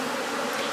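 Honey bees buzz steadily around an open hive on an overcast day, a dense close hum filling the whole short moment with no voices.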